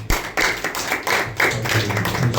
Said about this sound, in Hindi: एक अच्छा ताली बजाएं।